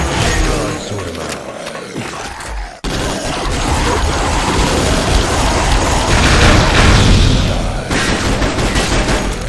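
Rocket weapon explosions in a zombie-horde video game boom and rumble loudly and continuously, with a brief cut near three seconds before a dense, sustained barrage of blasts and gunfire-like crackle.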